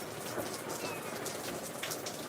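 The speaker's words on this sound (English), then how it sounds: "It's just it started raining." Steady rain falls outdoors, a dense even patter of drops on surfaces that continues throughout with no voices.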